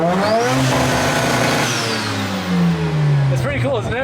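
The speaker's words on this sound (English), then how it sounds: "New feature, I found out it has a cool rev limiter." An old project car's engine revs hard against its rev limiter, a loud, close, continuous drone with the pitch sliding down and then rising again.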